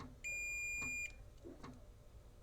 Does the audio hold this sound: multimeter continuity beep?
yes